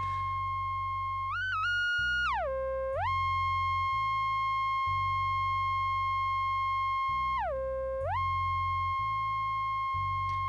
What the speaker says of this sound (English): Just a nice big sine tone, sine wave with a bit of portamento